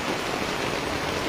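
Steady rain pouring all around during a heavy downpour in Ugi, where the Sarwar stream is in flood, a dense continuous hiss filling the whole clip with no voices.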